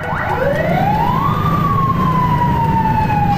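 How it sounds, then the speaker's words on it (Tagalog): An ambulance siren wails loudly and steadily, its pitch sweeping up and then slowly falling, over constant traffic rumble. "sumabay yung ingay ng ambulansya."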